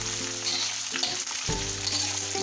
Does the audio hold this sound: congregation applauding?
no